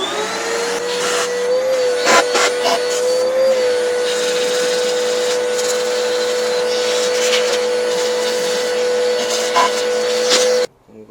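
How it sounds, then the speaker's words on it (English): A vacuum cleaner pulls debris from around the fuel injectors of a Mini Cooper S R53 engine, a steady close whine with brief scraping and rubbing noises before it cuts off abruptly. "So what we're going to use is a vacuum to vacuum the debris."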